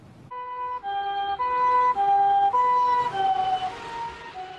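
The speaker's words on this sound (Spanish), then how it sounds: "cuando oyes el sonido de una ambulancia, te da esperanza de que puedan haber encontrado a alguien con vida" An ambulance siren wails in a loud two-tone alternating pattern, steady and close, repeating several cycles after an earthquake and tsunami in Japan, with low rumbling in the background.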